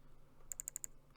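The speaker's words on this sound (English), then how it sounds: "So you can hear a clicking sound." A rapid, evenly spaced burst of five crisp clicks comes from a safe dial turning in the Mystery of the Druids video game, close-up and isolated against a quiet background.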